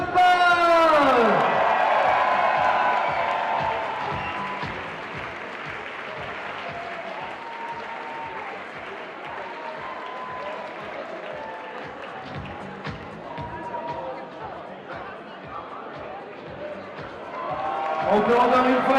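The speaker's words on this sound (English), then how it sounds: "On peut encore une fois l'applaudir bien fort, s'il vous plaît, Mia Krampel" A crowd at an international lead climbing competition applauds loudly at first, then sustained clapping and scattered cheers continue steadily before swelling again at the end.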